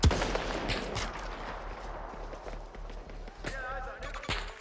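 Gunfire in a video game, scattered shots and short bursts over a low rumbling battle backdrop, moderately loud, with a couple of sharp cracks near the end.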